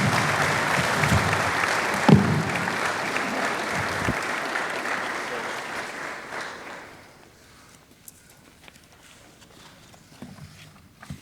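Dense, loud applause from an audience at a 2023 football media day honoring a coach, holding steady for about seven seconds before thinning out and fading to near silence.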